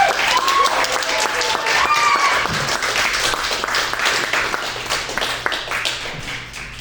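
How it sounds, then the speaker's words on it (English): An audience at a talk on industrial music gives loud, dense applause that gradually tapers, with a faint tone and scattered voices beneath. "let us give another round of applause"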